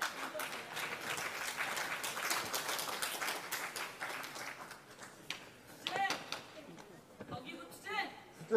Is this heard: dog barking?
no